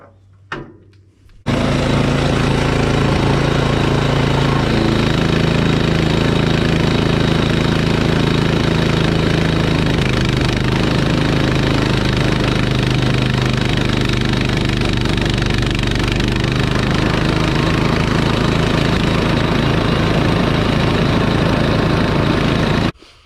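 A loud, steady wood chipper engine roar, a YARDMAX YW7565, starts abruptly after a moment of quiet and runs continuously at a constant, heavy drone.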